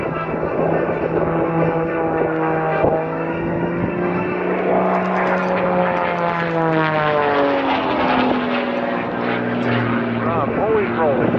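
A propeller aerobatic airplane performs snap rolls and tumbles at a 2023 airshow, its engine droning loudly and continuously as the pitch rises and falls with each maneuver, while an announcer talks over it.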